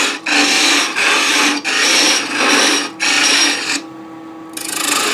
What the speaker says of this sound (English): I'm going to use a 1/2 inch parting tool to get in here and create a little gap